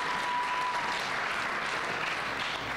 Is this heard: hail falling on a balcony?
no